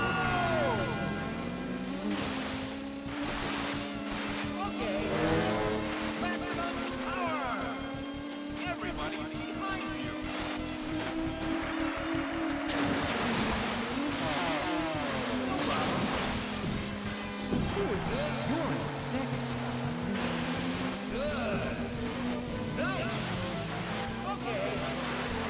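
In a boat racing video game, a motorboat engine drones with a wavering pitch that rises and dips as the craft rides over waves, alongside splashing water and fairly quiet overall, with voices talking over it.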